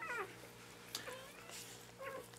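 A newborn poodle puppy, just born, gives several thin high squeaks and mewling cries, three short bursts spaced across a couple of seconds, close and faint over a quiet steady background hum.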